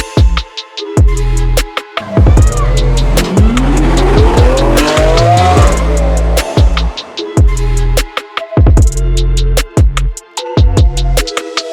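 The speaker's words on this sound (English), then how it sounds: "I'm doing the parade as well, and I'll be driving the Lerner Lamborghini" A Lerner Lamborghini, the Get Licensed car, drives in a parade with loud, close engine revs and rapid gear changes, its tires squealing and skidding through a sustained stretch in the middle before the revving resumes alone.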